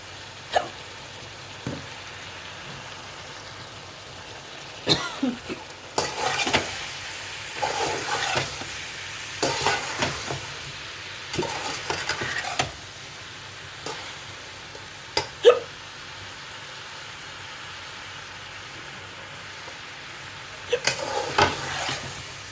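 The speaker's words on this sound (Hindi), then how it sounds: "अब थोड़ा सा इसको शिमला मिर्च को भूनेंगे।" Chopped capsicum sautéed in a pan as part of a spaghetti dish, heard as a low background sizzle broken by repeated short bursts of spoon scraping and stirring against the pan, with no talking.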